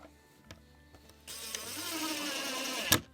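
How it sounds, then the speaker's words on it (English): A screw driven into mudroom boards in a log home, a power driver whirring steadily for about a second and a half and ending in a sharp click, after a few quiet taps. "I'm just going to go ahead and install my screws."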